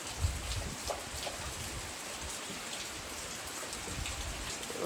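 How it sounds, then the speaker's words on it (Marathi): Steady morning rain pours down continuously on a farm, a dense even hiss with occasional heavier drops and low rumbling underneath, close and moderately loud with no talk. "सकाळ सकाळ पावसाचं आगमन"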